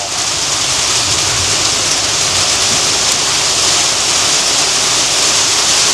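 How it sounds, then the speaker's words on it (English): Heavy rain or hail pours down outside in a dense, steady roar, loud and unbroken from start to finish, with no voices over it. "I don't know if that's hail coming down out there, if that's just heavy rain, but that sounds nasty."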